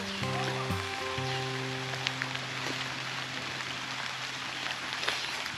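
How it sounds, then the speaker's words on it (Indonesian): Steady rain pours over a plantation in the countryside, a dense hiss of drops on leaves and surfaces, with a sustained low hum running underneath. "Ya, hujan. Hujan."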